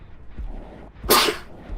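A single sharp sneeze bursts out loud and close during a relaxed livestream, briefly standing out over a low room background.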